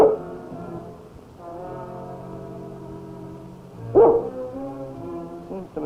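A dog in an old radio drama set in the Yukon gives drawn-out howling barks, one near the start and a louder one midway, then short yips.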